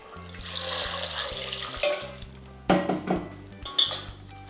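Potatoes washed by hand in a bowl or sink under running tap water, with clinking of utensils and splashing that grows louder and choppier toward the end; no talk.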